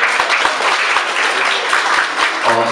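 Steady, dense applause from a studio audience at a Women's Day TV show, loud and continuous with a few sharp knocks, and a voice entering right at the end.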